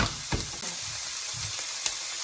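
Asparagus and shrimp stir-frying in a pan, a loud continuous sizzle with a few soft scraping stirs, brief and up close without voices.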